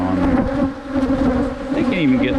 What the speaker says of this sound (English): Killer bees, buddy. Killer bees.